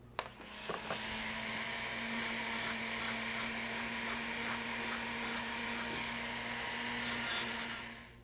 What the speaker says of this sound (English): I'm going to use a slightly less abrasive bristle disc